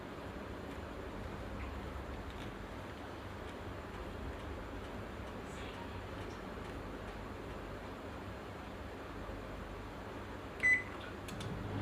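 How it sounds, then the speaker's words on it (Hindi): An oven running while cheese biscuits with ajwain and jeera bake, a steady low hum and whir throughout with faint ticks and one brief beep near the end, no voices. "और अब मैं अपने बिस्किट्स को ओवन में रख रही हूँ।"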